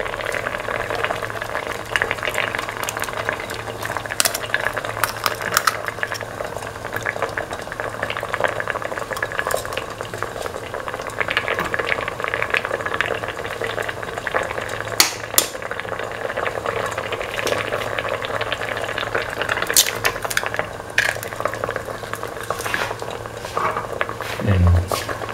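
Eggs simmer in a mint, potato and coconut milk stew, giving a steady soft bubbling and gentle patter at close range, continuous and even throughout with no talk.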